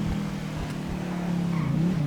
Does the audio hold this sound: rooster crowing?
no